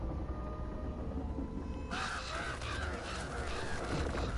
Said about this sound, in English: How's the birds in there?